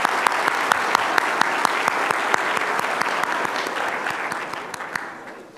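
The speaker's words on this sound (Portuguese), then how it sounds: "eu gostaria de pedir aqui uma salva de palmas ao ministro Noronha e ao ministro Humberto Martins" A hall of seminar attendees gives sustained applause to ministers Noronha and Humberto Martins at a judiciary conference on the new Civil Procedure Code. The dense, even clapping carries some sharper individual claps and tapers slightly at the end.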